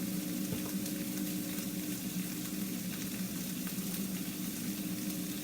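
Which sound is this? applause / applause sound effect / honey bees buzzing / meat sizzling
meat sizzling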